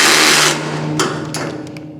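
A power driver whirs as it runs screws in while a Recteq Deck Boss 800 grill is assembled, a loud continuous motor spin that tapers off, followed by a few short sharp clicks.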